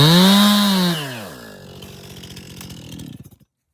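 Chainsaw bore-cutting into a tree, the engine loud and close at high revs, then dropping in pitch as the bar bogs into the wood, with rough chattering before cutting off near the end.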